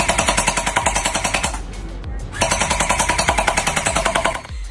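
A Nerf Pro Gelfire Mythic gel blaster firing rapidly in long bursts, a loud fast mechanical rattle of evenly spaced shots with a brief pause in the middle before firing resumes.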